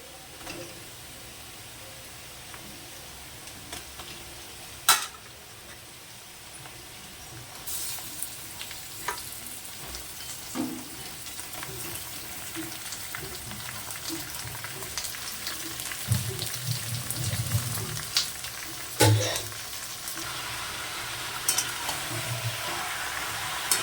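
Chicken pieces sizzle and fry in a pan for coriander chicken, with cardamom and bay leaf already in the oil; a steady hiss holds throughout, with occasional louder spatters and stirring knocks, and no voices.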